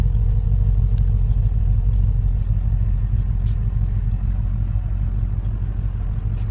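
A 2015 Porsche Panamera GTS with quad round exhaust tips gives a steady, deep, continuous exhaust rumble, close and unchanging throughout, with no talking.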